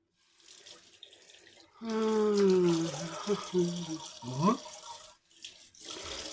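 Tap water runs into a sink to wet a shaving razor, a close steady splash that changes pitch as the flow hits the basin, with a quieter start and trailing off at the end.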